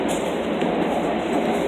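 A crowded, standing-room-only LIRR commuter train runs along the track, making a loud, continuous rumble and rolling roar heard from inside the car, with no voices over it.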